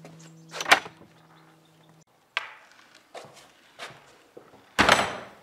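Heavy door of a 12th-century village church being worked, several sharp knocks, latch clacks and thuds spaced over a few seconds, ending with a loud close-up bang, in a quiet interior.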